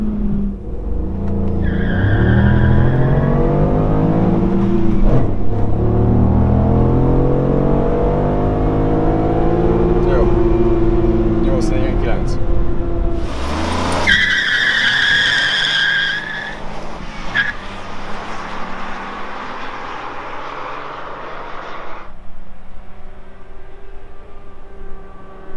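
A tuned Ford Focus RS accelerates hard with rising engine revs through several gear changes, tires squealing, loud and close throughout.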